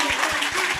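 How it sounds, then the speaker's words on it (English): Studio audience applause at a sports debate show, a short burst of steady clapping with a rhythmic pulse, moderately loud and continuous with no voices over it. "I think that Stephen A. deserves a better applause than that"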